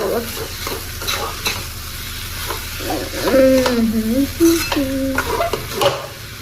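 Flattened rice poha is stirred and mixed into a sizzling pan, with a spoon scraping and clinking against the metal amid steady frying, while someone talks over it.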